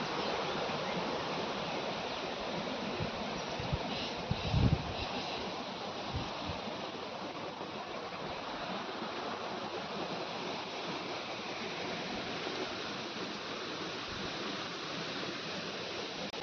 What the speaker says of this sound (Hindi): आप लोग पीछे से पानी की आवाज़ सुन रहे होंगे कि कैसे पानी की आवाज़ आ रही है